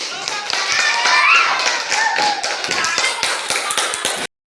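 Audience applause for group 3 after a short classroom supervision-practice presentation: dense, steady clapping from a group lasting about four seconds, fairly loud, with a little background voice mixed in.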